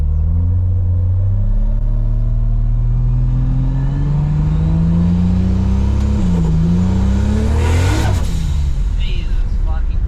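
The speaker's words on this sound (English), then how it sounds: "The car literally doesn't move, it just fries the tires." An RB30-engined VL car revs hard while its tires spin, giving a loud, continuous roar whose pitch climbs steadily, then dips and surges again into a harsh burst near the end.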